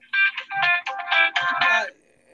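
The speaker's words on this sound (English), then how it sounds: "there goes the phone" A telephone rings in a steady electronic warble, several bursts close together over about two seconds, fairly loud and close, with no talk over it.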